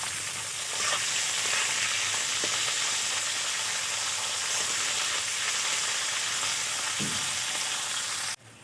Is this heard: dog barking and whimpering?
no